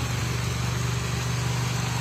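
A carbureted Honda Civic engine idles smoothly and quietly, a steady, low, even hum with a regular pulsing beat and no voices over it.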